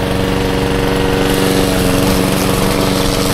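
A lawn mower engine in a video game drones loudly and steadily, a buzzing, even motor tone with no pauses and no talking.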